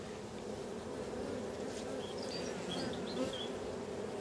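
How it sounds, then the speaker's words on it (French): Steady, close buzzing of many honeybees, a continuous insect hum with no talking. "Les abeilles sont assez cool"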